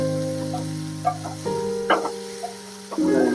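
Ginger-chili paste frying in oil in a home kitchen, a steady low sizzle with a few soft stirring knocks, close and fairly quiet with no talk.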